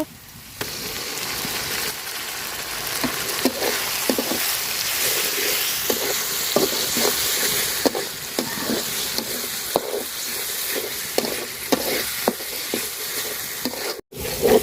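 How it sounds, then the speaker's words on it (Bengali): Ground spice paste fries with browned onions for a country rooster curry, a dense, steady sizzle close by, punctuated by regular scraping clicks of a spatula stirring the pan. "তো মশলাটা দেখেন আমি সুন্দর করে ভাজা নিছি"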